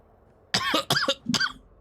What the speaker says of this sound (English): We're getting coughing over the comms.